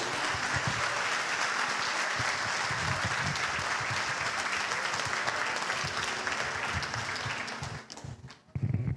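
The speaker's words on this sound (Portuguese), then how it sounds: "Dá uma salva de palmas para Jesus." A church congregation gives a long, dense round of applause that fills the space steadily for several seconds, then thins and trails off near the end.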